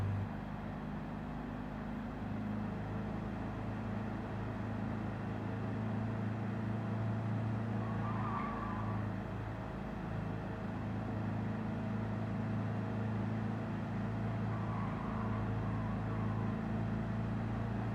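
A 1966 Volkswagen 1200 on the Nürburgring in Gran Turismo 7 drones steadily, a low constant engine hum held at a near-even pitch throughout, with no talking.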